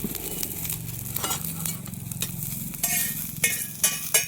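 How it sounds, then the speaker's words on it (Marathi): Onion roasting in a little oil on a hot tawa crackles and sizzles steadily up close, with frequent scraping and stirring strokes of a spatula growing sharper toward the end. "थोडंसं तेल टाकून घेऊ। तेल टाकल्यानं लय लवकर कांदा भाजला जातो।"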